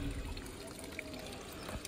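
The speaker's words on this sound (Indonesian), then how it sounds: "di baratnya ada air mengalir seperti ini" Small stream of water trickling beside Cangar bridge, a soft continuous babbling flow at moderate distance with light splashes, steady throughout and no voices.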